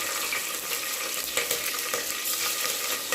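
Green chillies sizzle and fry in hot oil in a home kitchen pan, a steady, fairly loud crackling hiss with a few brief sharper pops throughout, no voices.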